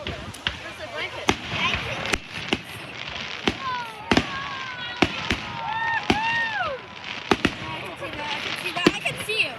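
Video-game fireworks burst in a rapid irregular series of sharp cracks and pops, with whistling, rising and falling tones weaving between the bangs.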